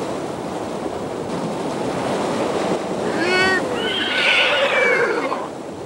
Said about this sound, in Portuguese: Levem cavalos.